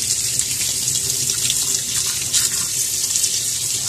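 Tap water pours steadily over an iWown fit i6 HR waterproof smartwatch held under a home faucet, a continuous close hiss of splashing water with no talk.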